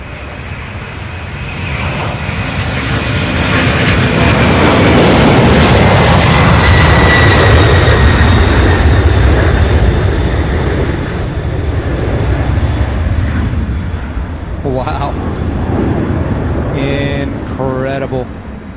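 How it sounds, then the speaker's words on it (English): A McDonnell Douglas MD-11 at Louisville airport, beside the UPS Worldport, sends up a broad roar that swells and peaks near the middle, then eases as a voice speaks briefly near the end. "Here we go, an MD-11 just for Darren."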